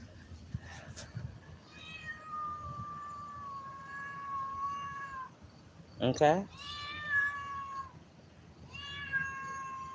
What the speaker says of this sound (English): here comes this cat again